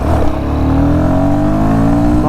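A Royal Enfield Guerrilla 450 motorcycle engine pulls hard under acceleration, a loud, steady close-up drone that rises in pitch as the bike gathers speed, with no voices over it.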